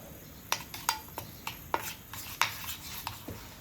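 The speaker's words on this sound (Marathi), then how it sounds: "आता हे चांगलं मी मिक्स करते." A spoon stirs curd and gram flour together in a pot for methi kadhi, giving a run of sharp clinks and scrapes against the metal in an uneven rhythm, close and moderately loud with no voices.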